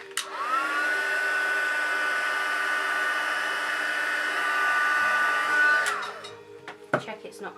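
A heat tool run to heat-set paint, a steady whirring blower hum that starts abruptly, holds for about five seconds, then winds down, followed by a few light clicks and handling noises.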